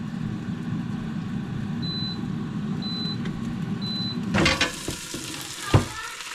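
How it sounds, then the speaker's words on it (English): Air fryer fan humming steadily while cooking bratwurst, with three short beeps, then clattering knocks and a loud thump as the basket is handled. "And then air fry. Let's do 8 minutes and then we'll flip them."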